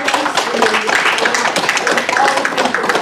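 A council meeting audience applauds a volunteer with steady, dense clapping from many hands, filling the room for a few seconds with faint voices mixed in.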